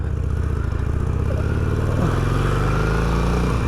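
A Harley-Davidson Sportster motorcycle rumbles loud and close as it is ridden through a residential area, its engine pulsing in a steady low throb with a slight shift in pitch partway through and no talk.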